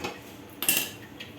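Metal kadhai set down onto a gas stove burner, a short clanking knock of metal on metal with a brief ringing tail in an otherwise quiet kitchen.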